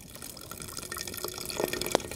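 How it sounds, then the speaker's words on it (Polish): Water is poured into a camping cooking pot at a winter tent camp in the woods, a trickling, splashing stream with a few brighter drips and plops toward the end. "Tu dolejemy trochę wody"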